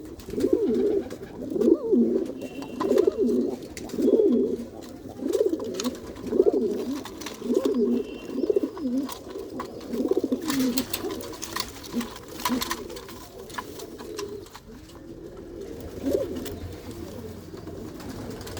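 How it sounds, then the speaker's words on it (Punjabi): Pigeons coo in a steady series of low, throaty calls, close and continuous, with faint clicks and rustling behind. "ਕੁਝ ਵਿੱਚ ਵੱਡੇ ਕਬੂਤਰ ਆ ਤੇ ਕੁਝ ਪੱਠੇ ਆ ਜੀ ਨਵੇਂ"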